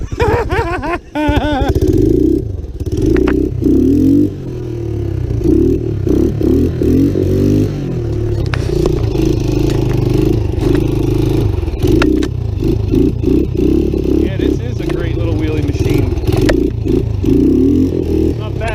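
An old Yamaha Tri-Moto 200 race trike engine putters at a loud, steady idle with low rumbling and clatter, rising in a few revving surges throughout, up close.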